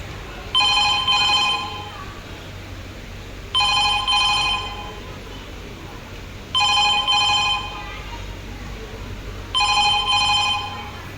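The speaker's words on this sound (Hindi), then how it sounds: "फोन की घंटी बजती है।" A telephone rings in four evenly spaced bursts of electronic trilling, each lasting about a second, with a steady low background hum between rings.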